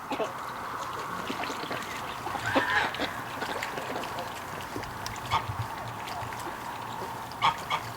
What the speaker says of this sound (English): I heard the ducks just going crazy out here